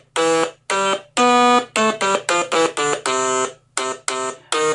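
A Stylophone is played by touching its stylus to the metal keys, producing a loud, raspy buzzing tone in a rapid series of short and held notes separated by brief gaps, over a faint steady hum.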